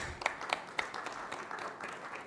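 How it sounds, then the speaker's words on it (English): A small audience at a hospital panel discussion applauds to welcome guests, a brief burst of scattered clapping that starts sharp and quickly thins out, faint and somewhat distant. "We welcome them with a big round of applause."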